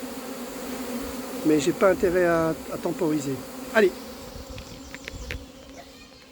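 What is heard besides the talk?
honeybees fanning to call the swarm, on cardboard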